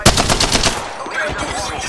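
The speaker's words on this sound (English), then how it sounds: "We're shooting." Rapid automatic weapon fire in the video game Apex Legends, a loud close burst of evenly spaced shots that continues steadily through the moment.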